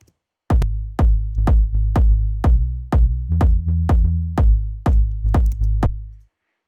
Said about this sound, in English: One is this sub, which is basically the basic sub layer from Serum.